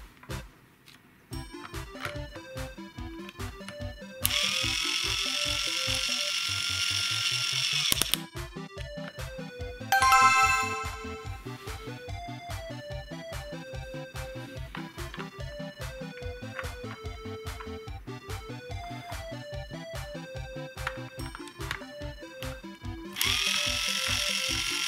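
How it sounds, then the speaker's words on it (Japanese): Red screws being driven into an Anpanman toy car with the toy's screwdriver, a steady rapid clicking ratchet under cheerful electronic toy music, with bursts of brighter whirring in between. "まずはアンパンマン号の頭の部分。 赤いネジを止めていくよ。"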